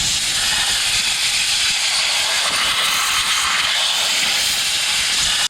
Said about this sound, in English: It's also a good idea to clean everything here with a brake cleaner or something like that